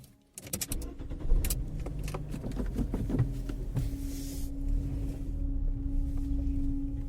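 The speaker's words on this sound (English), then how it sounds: "We're back in the car, all of us in one minivan." Riders sit inside a minivan with a sheriff at the wheel as it drives along, a steady low engine and road rumble filling the cabin after a few light clicks and rattles at the start, with no talking.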